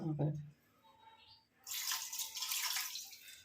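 Running water splashes steadily while hair is washed, a broad hiss that starts partway through after a brief low voice and a quieter pause, then continues fairly loud to the end.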